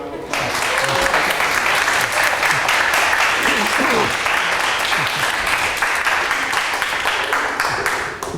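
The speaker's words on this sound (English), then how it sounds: "Please give a warm round of applause." A lecture audience at Ewha Law School in Korea breaks into warm applause to welcome a speaker, loud close clapping sustained for about eight seconds with some voices mixed in.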